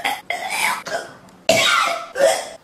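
A person fakes a series of harsh, throaty coughs as a running comedy gag, several loud bursts in quick succession with short pauses between, close up, no other voices.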